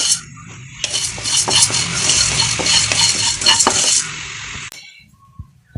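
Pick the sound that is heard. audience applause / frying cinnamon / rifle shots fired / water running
frying cinnamon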